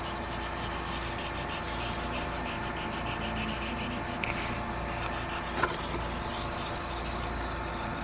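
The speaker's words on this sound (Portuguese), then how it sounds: "É um trabalho que demanda paciência, porque eu acho que a pior parte é essa de lixar." Wood being sanded by hand with sandpaper, a steady run of rapid back-and-forth rubbing strokes, close and fairly loud, continuing throughout with no talking.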